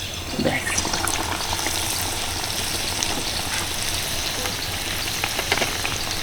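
Batter-coated stuffed large chillies fry in plenty of hot oil, three at a time, giving a steady, close sizzle and bubbling that runs the whole time.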